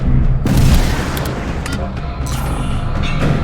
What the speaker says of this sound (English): Get me artillery! Ordnance inbound!